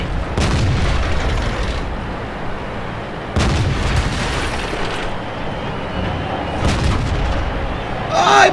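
Tank cannon blasts in World of Tanks during a football battle mode, three heavy booming shots spaced a few seconds apart, each with a long rumbling decay over continuous engine and battle noise.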